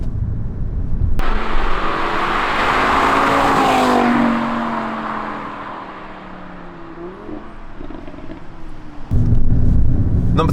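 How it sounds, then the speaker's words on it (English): An Audi RS3 engine through its factory sports exhaust drones loudly and close, its pitch rising and falling as it revs, with sharper bursts at the start and end. "stock, I had the factory sports exhaust, but the noises it makes are amazing"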